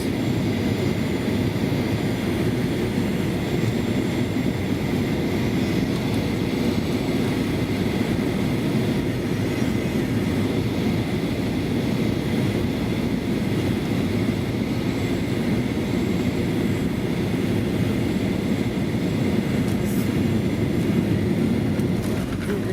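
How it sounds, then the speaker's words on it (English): An airplane landing at Istanbul airport, heard from inside the cabin as a loud, steady engine and airflow roar that holds constant throughout, with a brief higher rattle near the end. "And we are landing."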